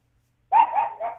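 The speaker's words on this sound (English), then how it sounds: "Dogs can bark on this channel as much as they want." A dog barks close by in a short burst of about three quick, loud barks after a moment of silence, with a slight whiny edge and no talking.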